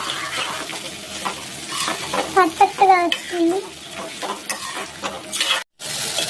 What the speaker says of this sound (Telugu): ఓకే, తాలింపు అయితే వేగిపోయింది.